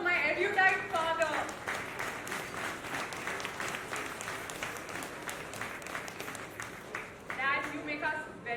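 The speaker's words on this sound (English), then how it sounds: "A round of applause for my erudite father." Applause at a book milestone event for a bestselling author, dense clapping from an audience filling the room between stretches of a voice talking at the start and end.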